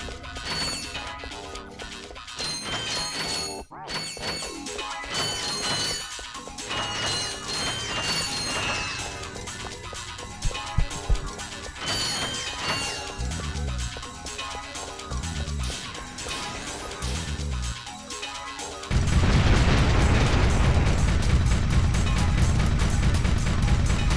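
Gunfire and explosions from the Ratchet & Clank HD video game, a dense run of crashing blasts and pops over game music, growing into a loud sustained roar near the end.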